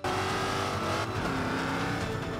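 A race car in Forza Motorsport 5 on Xbox One drives with a continuous, fairly loud engine roar that holds steady over a brief stretch, with a hint of tire noise.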